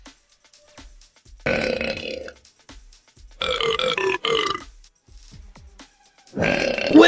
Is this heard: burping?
yes